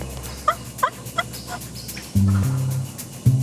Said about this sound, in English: See, he gobbled again.